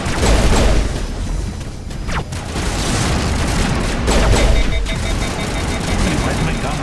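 Video game gunfire crackles amid dense, loud combat noise, with bursts of shots and booming impacts spread across a continuous roar.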